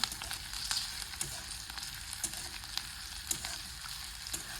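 Dried red chillies and onion fry in a pan with a steady broadband sizzle, broken by periodic scraping clicks as they are stirred, close and moderately loud with no talking.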